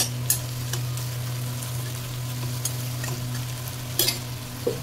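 Food fries in a pan under a continuous, even sizzle with a low hum, broken by occasional light clicks and scrapes of stirring.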